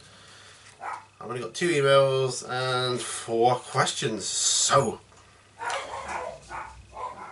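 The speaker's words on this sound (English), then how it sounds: "excuse the dogs. I can't do anything about that." Dogs barking indoors in short, repeated loud bursts behind a man's steady speech, the barks overlapping and cutting through his talk.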